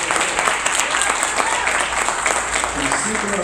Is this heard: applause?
yes